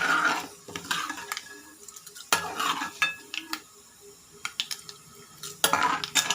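Mustard seeds, cumin and urad dal fry in an oil pan for a thotakura tomato curry, with a steady close sizzle broken by repeated scraping stirs and sharp metal clinks against the pan.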